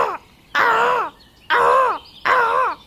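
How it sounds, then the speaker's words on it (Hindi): A crow caws four times in a row, loud and close, each harsh call lasting about half a second and separated by short gaps, with no other sounds. "कौवा पेड़ पर बैठ के लगातार अपनी साथी को बुला रहा था"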